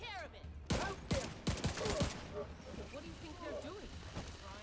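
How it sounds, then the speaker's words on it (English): Rapid sharp bangs and crackles from fireworks going off at a control point in the Division 2 video game, a burst of close explosive pops followed by scattered fainter crackling, with people talking over it. "I love this this control point just because it's like all fireworks everywhere."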